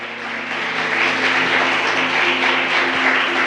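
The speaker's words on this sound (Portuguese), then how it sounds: "Vamos dar uma salva de palmas ao Senhor." A church congregation applauds, steady dense clapping heard at a moderate distance in an indoor hall, continuous throughout with a faint tonal hum underneath and no speech.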